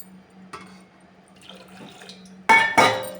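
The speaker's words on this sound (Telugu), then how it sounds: "ఈ చామగడ్డల్ని గిన్నెలో వేసుకొని ఒక మూడు గిద్దల ఉడికి వాటర్ పోసుకొని ఉడికించుకుందాము" Water is poured into a cooking pot of taro roots, a short loud splashing rush near the end after a quiet stretch of faint kitchen noise.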